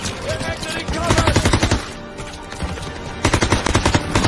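Rapid machine gun fire in the World War II shooter game Call of Duty WWII, loud bursts of rattling shots with a short lull between volleys, over battle noise.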